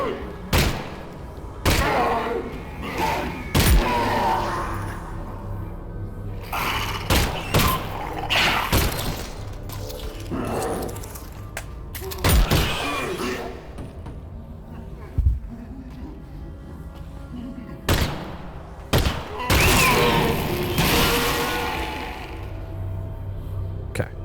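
Sparse, sharp gunshots ring out in Half-Life: Alyx, a 2020 VR first-person shooter on PC, spaced irregularly across the stretch with game ambience in between and a few louder cracks standing out near and clear.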